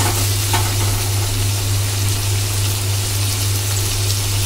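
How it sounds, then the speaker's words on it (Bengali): Fish curry with greens and potatoes bubbles and sizzles in a pan while being stirred, giving a dense, continuous, close frying hiss with a steady low hum beneath and no voices. "এটার সঙ্গে ভালো করে এটা মিশিয়ে নেব"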